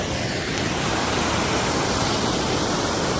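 Fast-flowing river water rushes in a strong, steady broadband roar, close and loud, filling the whole short stretch with no voices over it.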